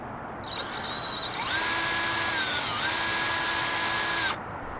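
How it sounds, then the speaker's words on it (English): A power drill bores a hole into the wheel arch of a Tesla Model 3, giving a close, loud, steady whine that steps up in pitch as it bites, then stops abruptly. "and then start drilling the hole."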